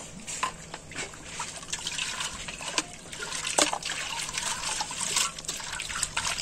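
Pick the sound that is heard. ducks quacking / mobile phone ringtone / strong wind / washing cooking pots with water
washing cooking pots with water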